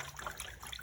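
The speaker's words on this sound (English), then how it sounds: "rinse my brush again really well" A paintbrush is swished and rinsed in water, a brief, quiet sloshing and trickling close by with no speech.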